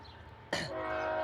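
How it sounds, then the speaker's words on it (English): A morning train near the Amarillo KOA campground rumbles steadily in the background, a sudden broadband burst rising partway through and then settling into a sustained, moderately loud rolling roar. "Do you hear that? There's a morning train there."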